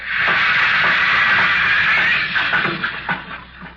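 A loud, steady mechanical hiss and whine of sawmill machinery, a 1948 radio sound effect, dense and continuous, with a few faint thuds toward the end.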